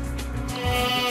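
Young sheep about six months old bleat on a small farm, a steady, close, fairly loud bleating that holds throughout with no talk.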